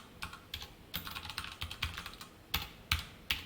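Keystrokes on a computer keyboard while Java code is entered, a quick run of close, crisp clicks with brief pauses and a few sharper, louder taps near the end.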